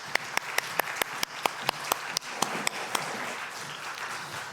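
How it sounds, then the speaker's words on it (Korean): A church congregation at a Sunday worship service in Daejeon claps in a steady, evenly spaced rhythm of sharp, bright claps over a low crowd murmur. The claps thin out and fade near the end. "함께 영광의 박수 올려드리겠습니다"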